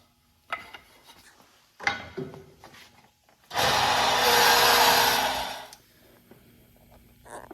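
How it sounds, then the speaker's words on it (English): A few short scraping bursts on wood, then a loud whirring drill bores dowel holes into a nightstand board for a couple of seconds before stopping. "Now I've got to now drill every hole that I marked on all of my styles and all of my rails."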